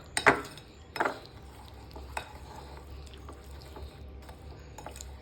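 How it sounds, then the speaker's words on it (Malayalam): Dry nuts stirred into a homemade chocolate mixture in a bowl, a few sharp spoon clinks near the start followed by quieter scraping and stirring, faint and close, with no talk. "നമ്മളിവിടെ ഡ്രൈ ആക്കി വെച്ചിരിക്കുന്ന നട്ട്സ് ഉണ്ട്, അതിങ്ങനെ ഇട്ട് കൊടുത്ത് നല്ലവണ്ണം ഇളക്കാം."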